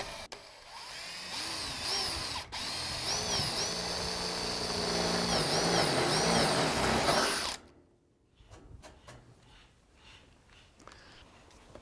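A loud power drill whines steadily for several seconds, its pitch shifting as it bites into a metal fence, then stops abruptly, leaving faint clicks and rustling.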